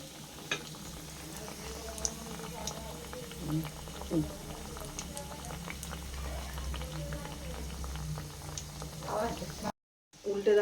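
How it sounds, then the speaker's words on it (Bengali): Chicken cutlets fry in oil over a low flame, a steady soft bubbling and sizzle with faint scrapes and clicks running throughout. It stops abruptly near the end. "চিকেন কাটলেটটা আমি এবার তেলে দেবো।"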